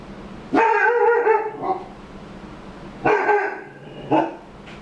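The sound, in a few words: dog barking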